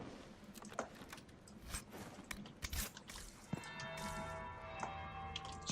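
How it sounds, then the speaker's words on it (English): A bell rings in the Dragon Age Inquisition video game, struck several times with bright metallic tones that ring on and layer over clicky background game sounds, fairly faint and with no talking. "That's the bell."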